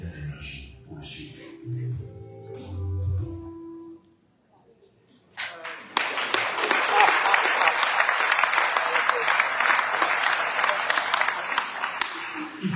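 Audience at a public meeting in Arles bursts into sustained, dense applause after a spoken passage and a short pause, continuing loudly to the end.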